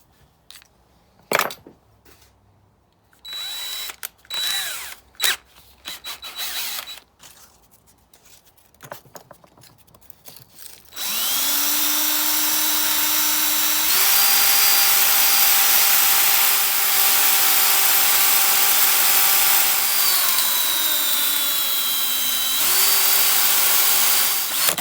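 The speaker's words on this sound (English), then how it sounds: "going to sand this down a little bit." Steady power-tool sanding on a brake caliper pin from an XR650L motorcycle, a continuous whirring grind that begins partway through after a stretch of scattered handling clatter and runs loud and unbroken to the end, pitch shifting slightly as pressure changes.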